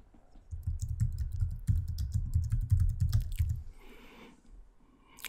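Typing on a computer keyboard, a close, steady run of soft key clicks lasting about four seconds, then a brief rustle before it stops.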